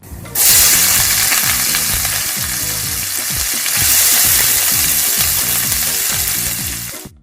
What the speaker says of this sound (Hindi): अब हम ये इसका तड़का लगा देते हैं।